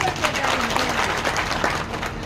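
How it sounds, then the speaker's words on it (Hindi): Crowd at a political rally clapping for their villages, a steady dense wash of applause with voices mixed in throughout. "एक बार आप अपने गांवों के लिए ताली बजा दो जोर से।"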